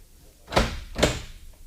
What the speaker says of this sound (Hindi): ये दरवाजा क्यों बंद किया आपने?